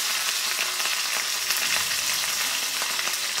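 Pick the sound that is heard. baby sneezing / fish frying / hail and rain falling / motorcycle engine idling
fish frying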